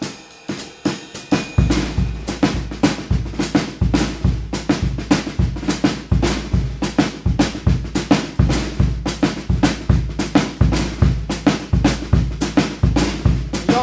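A drum kit plays a busy New Orleans second line jazz groove, with dense syncopated snare and bass drum hits in a continuous driving pattern that sounds close and lively, starting after a few quieter opening taps.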